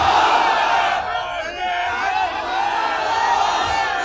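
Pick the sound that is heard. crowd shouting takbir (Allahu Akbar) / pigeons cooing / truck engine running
crowd shouting takbir (Allahu Akbar)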